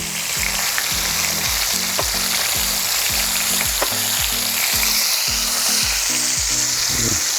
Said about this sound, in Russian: И обжариваем с другой стороны.